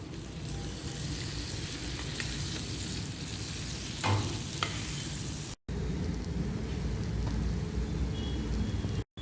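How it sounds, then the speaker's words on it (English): An oats pancake fries in a pan, giving a steady, close sizzle that runs unbroken with a brief dropout near the end. "Cook the pancake for 3 to 4 minutes one side."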